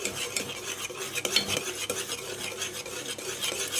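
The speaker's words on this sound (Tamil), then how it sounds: "ஆட் பண்ணதுக்கப்புறமா கொஞ்சம் கூட கைவிடாமல் கிண்டிகிட்டே இருங்க" A spoon stirs a thick drumstick halwa mixture, bound with cornflour, in a pan. The close scraping and clinking runs nonstop against the metal, with no voices.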